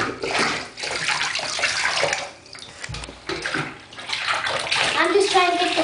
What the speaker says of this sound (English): Pour some water on her.